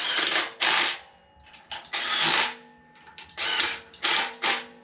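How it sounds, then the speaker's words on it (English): An impact driver runs down the water pump bolts on a 7.0-litre 427 LSX engine in a garage, firing several loud, rattling hammering bursts, each about half a second, separated by short pauses. "I'm just going to use my impact driver here because it's going to save me some time."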